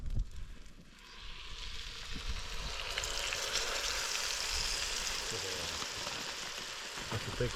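Steak frying in a big frying pan at a motorcycle campsite in Scotland gives a continuous, fairly soft hissing sizzle that rises and holds steady, with faint clinks underneath.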